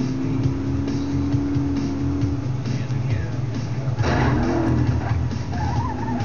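Race car engine in the GRID racing game roaring steadily with a sustained drone, rising into a brief surging whoosh and squeal midway as turbo boost kicks in, loud and continuous with no talk.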